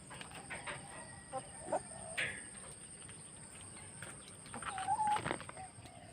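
Rhode Island chickens clucking and calling, a few short faint clucks and a louder call near the end, at a moderate distance over quiet background hiss, no talking.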